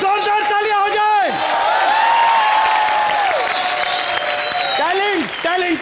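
Studio audience at a Comedy Nights Bachao comedy show breaks into sustained applause and cheering, loud and steady throughout, with a raised voice and tonal whoops carrying over the clapping.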